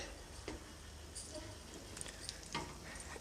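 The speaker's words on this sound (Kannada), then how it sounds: "ಇವಾಗ ಬೆಲ್ಲ ಹಾಕಿದ ಮೇಲೆ ಚೆನ್ನಾಗಿ ಕುದೀತಾ ಇದೆ" Sabudana payasam sweetened with jaggery bubbles in a pot, a soft steady simmer with faint scattered pops and light stirring clinks, quiet and close with no voices.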